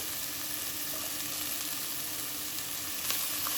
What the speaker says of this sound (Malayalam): ചെറിയ ഉള്ളി ചേർത്തതിന് ശേഷം ഒന്ന് വഴറ്റിയിട്ട് അപ്പോൾ തന്നെ നമുക്ക് ഇഞ്ചിയും വെളുത്തുള്ളിയും ചേർത്ത് കൊടുക്കാം